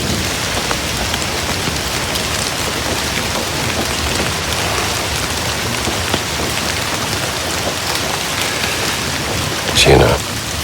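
Steady rain in the video game Indiana Jones and the Great Circle, a dense even hiss of falling water that runs throughout with a brief louder splash or rumble near the end.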